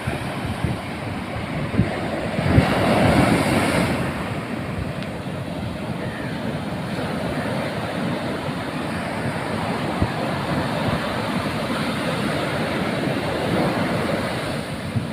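Sea waves break on the Kozhikode shore where fishermen cast ring nets. The surf is a continuous loud wash, roughened by wind buffeting the microphone, with a slightly stronger surge near the start.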